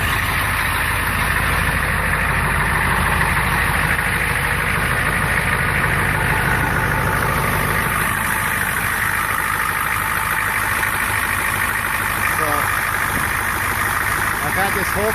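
A 1993 Ford F250 XLT with a 7.3L IDI diesel, new injection pump and injectors, idles loudly with a steady, close, rumbling drone that holds for the full stretch, with no speech heard over it.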